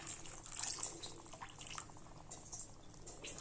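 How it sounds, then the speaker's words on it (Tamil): Water trickles and splashes into a pot of Kerala-style black chickpea curry for a few seconds, a soft, close liquid pour with faint kitchen clatter. "இப்போ இதில் கொஞ்சம் தண்ணி சேர்த்துக்கலாம்."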